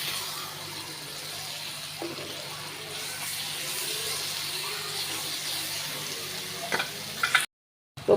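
A mash of bottle gourd peel and shrimp is stirred in a frying pan, making a soft, steady sizzle with faint scraping and a few sharp knocks near the end.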